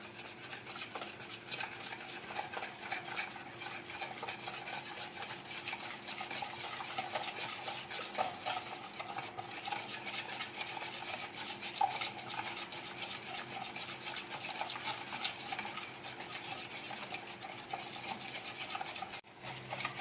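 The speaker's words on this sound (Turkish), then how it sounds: "Güzelce çırpıyoruz" Continuous brisk scraping and stirring as spices are whisked into yogurt in a bowl, a steady rhythmic rasp lasting throughout with a few faint clinks and no voices.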